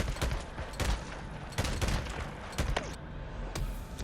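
Rapid bursts of gunfire from the Days Gone video game on PlayStation crack out in repeated volleys, loud and close, each burst sharp and spaced by brief gaps.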